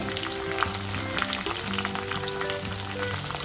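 Onions and green chillies sizzle steadily in hot oil for an Andhra-style potato tomato curry, a dense continuous frying hiss with faint low hums running beneath it.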